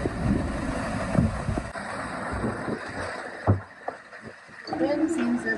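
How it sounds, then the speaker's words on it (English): Gale-force wind buffets a Catalina 30 sailboat, a steady loud roar of gusts and microphone wind noise with water sloshing around the hull, and people talk now and then over the blustery din. "The wind seems to calm down a little."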